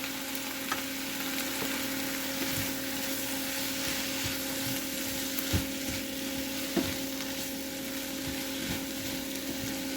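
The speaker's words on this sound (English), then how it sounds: "let's get these sauteed down" Onions sauté in a frying pan with a steady, even sizzle and occasional soft scrapes of stirring, close and continuous without talk.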